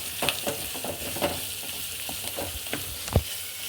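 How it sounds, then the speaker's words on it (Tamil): Garlic sautéing in hot oil in a pan, alongside onion for a tuna fish fry side dish, with a steady sizzle and scattered spatula scrapes and taps, close and moderate in level. "இதோட கொஞ்சம் பூண்டையும் போட்டு வணக்கிக்குவோம்."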